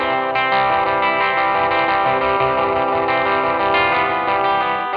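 Electric guitar rhythm part with the drive rolled all the way off, a cleaner tone thickened by chorus and echo effects, playing steadily and loud throughout with no talking.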